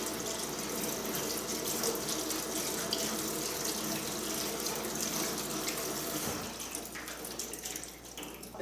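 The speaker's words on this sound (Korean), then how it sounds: "찬물에 헹궈도록 하겠습니다" Cooked Chinese noodles for jajangmyeon are rinsed under cold running tap water in a sink, a continuous close splashing gush that holds steady before tapering slightly at the end.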